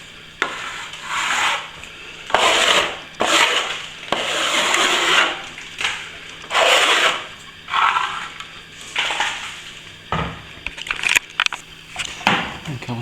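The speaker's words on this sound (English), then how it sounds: "it's starting to firm up now, so better give it a bit of a scrape back." Firming plaster being scraped back on a wall, repeated close rasping strokes in a steady rhythm with brief gaps and a few sharp knocks near the end, no talking.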